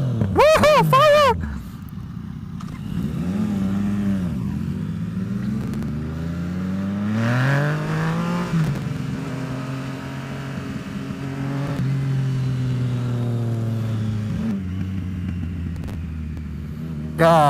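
A Yamaha FZ09 motorcycle cruises along, its engine droning loud and close with rising and falling revs and scattered exhaust pops, while a rider talks over the steady roar.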